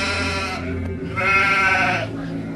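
Sheep and goats bleat in a few wavering, nasal calls close by, one longer cry rising in the middle, with no voices over them.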